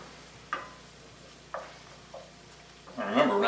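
Chopped onion sautéing in a pan on a stovetop, giving a few brief stirring scrapes and a soft sizzle that swells into a louder, steady frying crackle near the end, with no talk.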